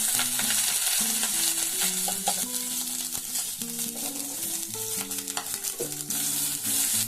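Onions fry in hot oil for a bitter gourd and potato dish, giving a steady hiss and crackle with occasional stirring, partly under a melodic music track that runs throughout.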